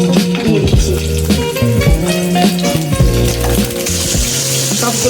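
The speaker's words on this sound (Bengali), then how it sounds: "তেলটা হালকা গরম হলে আমি এক এক করে মাছগুলোকে দিয়ে দিচ্ছি" Gulsha tengra fish frying in hot oil in a pan, a steady, close sizzle with crackles that runs throughout over a tonal, musical background.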